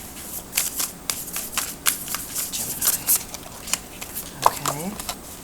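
Oracle cards are shuffled by hand close up, a rapid crisp flutter and slide of cards repeating for several seconds, with a voice briefly speaking over it near the end.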